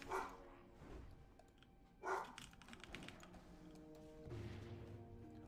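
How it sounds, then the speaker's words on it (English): Dogs bark in the background of a quiet room, three short, muffled bursts spaced a couple of seconds apart, with soft keyboard typing in between. "Sorry about my dogs, by the way. They're probably barking at a cat or something."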